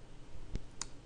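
A computer mouse gives two faint, sharp clicks a quarter second apart, quiet and close against a hushed room.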